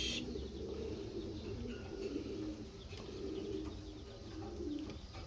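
Racing pigeons coo softly in a loft, low throaty calls repeating through a quiet, steady background, with an occasional faint chirp or rustle.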